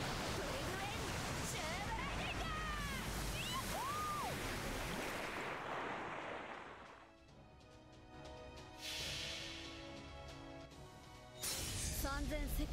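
Surging waves crash and wash in a Fate/Grand Order battle effect, a loud noisy roar that fades, dips quiet, then swells again with a closing splash, mixed with game sound effects.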